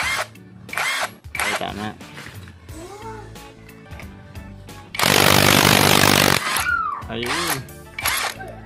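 Hoyoma Japan cordless impact wrench fitted with a wheel-nut socket, test-spun to check its rotation: a loud, dense buzzing whir bursts out for about a second and a half, set between nearby talk.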